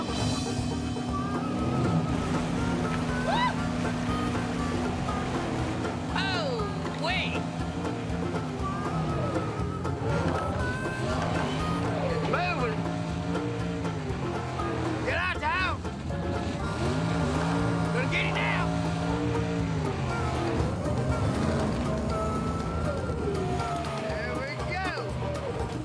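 A swamp boat with a 600-horsepower engine runs loudly throughout, a sustained droning roar with rising and falling revs, while people talk and shout over it.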